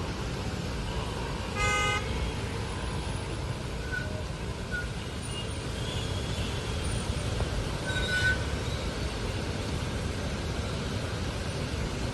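Car horns in a rain-soaked traffic jam in Thane: one short honk stands out near the start and a fainter one follows later, over steady rain and road noise.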